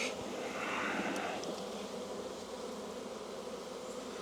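Honey bees buzz steadily throughout a spring beehive inspection of insulated condensing hives, a dense, continuous hum close by with no talking.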